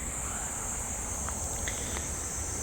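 Summer-heat insects in trees, likely cicadas or crickets, give off a steady, piercing high-pitched drone that holds unbroken throughout, with a few faint ticks near the end and no talking.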